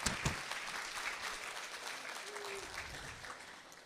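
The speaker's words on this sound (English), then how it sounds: "So big round of applause for Calvin" Applause for a staff member at a community staff recognition day, moderately distant and steady for a few seconds, with a brief louder burst of clapping near the start.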